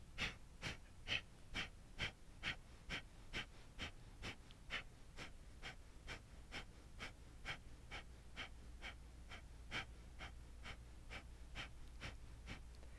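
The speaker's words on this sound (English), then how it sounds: "we'll do that one more round of your breath of fire" Rapid yoga breath-of-fire breathing: quick, even, forceful exhalations repeat at a steady pace of about two per second, soft and close with no talking.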